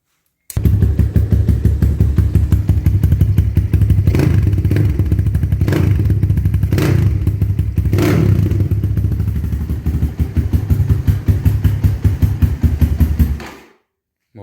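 A 2022 250 CRZ Pro motorcycle started cold, its engine catching and running with a rapid, steady, close, loud beat and a few rev bursts, then cutting out on its own near the end.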